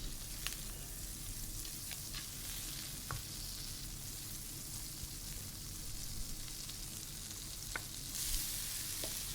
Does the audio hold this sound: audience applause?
no